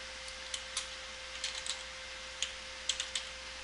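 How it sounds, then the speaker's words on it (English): Typing on a computer keyboard, with scattered soft key clicks in small irregular bursts over a faint steady electrical hum, close and quiet. "So I'll go ahead and type in names for some of them."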